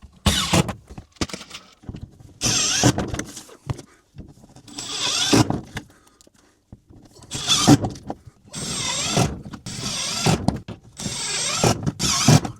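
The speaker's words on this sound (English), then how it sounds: "Now we've just got a million screws to go through and put in." Screws are driven into a 3D-printed PLA/PETG pegboard with a power driver: repeated close bursts of whirring and grinding, each a second or two long, separated by short pauses, with no talking.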